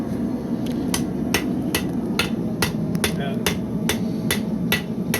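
Blacksmith hammering hot metal while bending it: a steady series of about a dozen sharp ringing hammer strikes at a regular pace, loud and close over a constant low roar, likely a forge.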